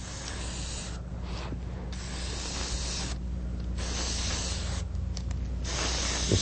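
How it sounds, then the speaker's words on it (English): An airbrush sprays paint through a stencil onto custom automotive graphics, a loud close hiss that runs in bursts and briefly pauses several times between passes. "Just spraying the effect in."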